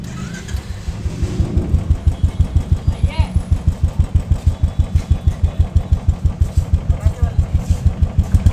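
A second-hand Royal Enfield Bullet motorcycle with its stock silencer idles with a steady, loud thumping beat, its pulses evenly spaced and continuous throughout.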